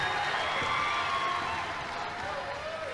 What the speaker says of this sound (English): Big roar as Romanchenko checks out.